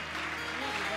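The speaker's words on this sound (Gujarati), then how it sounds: "બધા તાળીઓથી પૂજ્ય વક્તાના સન્માનને પૂજનને વધાવે" An audience at a Swaminarayan katha discourse at Vadtal claps together in a brief, dense wash of applause, with a voice talking over it.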